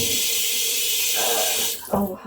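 Tap water runs into a kitchen sink in a steady hiss while warming up, with a brief shift in the flow near the end as a voice speaks briefly over it.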